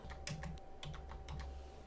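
Someone types a domain name on a computer keyboard, a quick, faint run of light keystroke clicks over about two seconds, with no talking.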